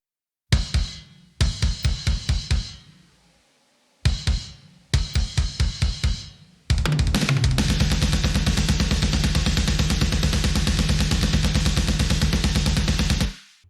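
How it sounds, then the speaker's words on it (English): A drum kit playing alone, with quick bursts of rapid hits and pauses, then a sustained, dense barrage of fast double-kick and crashing cymbals. "This is what the drums sound like on their own."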